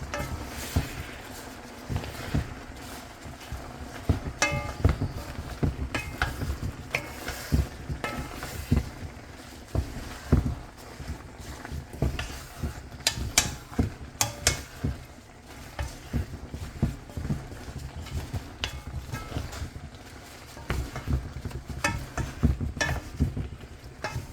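Sardines and sweet potato leaves are stirred in a frying pan, a spatula scraping and clattering in irregular bursts over a soft ongoing sizzle, close and fairly loud, with no voices.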